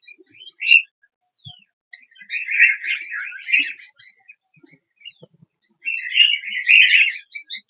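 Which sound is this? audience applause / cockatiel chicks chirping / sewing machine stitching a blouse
cockatiel chicks chirping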